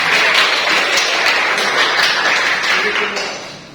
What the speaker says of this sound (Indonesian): Ya, aplaus, tepuk tangan.